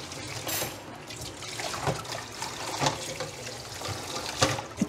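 Hot water is poured back into containers after sterilizing, a close, splashy trickle with small gurgles and surges that keeps flowing steadily throughout, with no voices.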